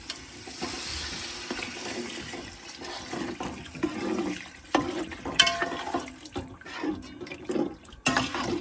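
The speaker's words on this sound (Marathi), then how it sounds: "आता आपण थोडा थोडा पाणी घालून रस्सा बनवू." Water poured little by little into a fish masala to make gravy while cooking a catfish meal aboard a fishing boat at sea off Mumbai, a steady splashing pour with intermittent clinks and bumps, no talk.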